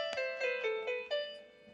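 BeatMaker2's built-in grand piano plays a few quiet notes in quick succession, each struck tone ringing briefly at low volume with short decays.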